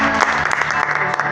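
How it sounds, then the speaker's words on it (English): A congregation at a prophetic church session claps hands loudly and continuously in a short burst, close and energetic, with a voice speaking underneath. "just clap our hands for him."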